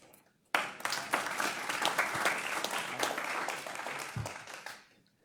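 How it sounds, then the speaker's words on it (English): At a council meeting, an audience bursts into clapping after a name is read, starting abruptly and holding steady for several seconds before tapering off quickly, moderately loud, with no talk over it. "We can still clap."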